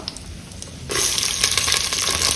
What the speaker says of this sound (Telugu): ఫస్ట్ ఇందులో ఉల్లిపాయలు, పచ్చిమిర్చి వేసుకుందాం